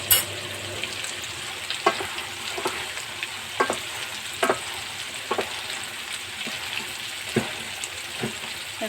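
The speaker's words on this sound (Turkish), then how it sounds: "Güzelce karıştırıyorum arkadaşlar." A spoon stirs potatoes into a pea stew with small meatballs as it cooks, giving soft sizzling and bubbling broken by repeated scraping strokes against the pot. Close and fairly quiet, with no talking.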